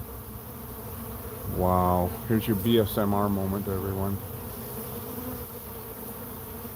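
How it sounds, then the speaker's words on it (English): A large swarm of killer bees in Cochise County gives off a steady, droning hum that carries all the way through, while someone speaks over the middle of it. "now we got the hum of bees"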